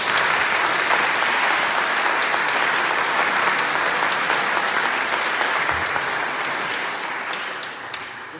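A church congregation in a Lutheran church in Klagenfurt applauds the retired pastors at an installation service, a dense, steady wash of clapping that holds evenly for several seconds and then tapers off toward the end.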